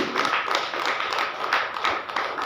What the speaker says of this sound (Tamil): கைதட்டுங்கள்.